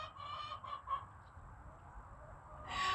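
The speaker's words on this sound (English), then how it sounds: "I'm going to let chickens out." Chickens clucking nearby as they are let out of the coop, a few quick clucks early on over a low rumbling background, then a louder burst of cackling at the end.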